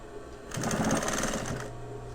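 A sewing machine runs a short, steady burst of stitching along an old stitch line on webbing of a load carrying panel, with quiet handling noise before and after.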